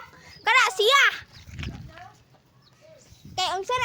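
Chickens on a farm cluck and squawk loudly up close, in two sharp bursts with a quieter stretch between, while a person speaks nearby.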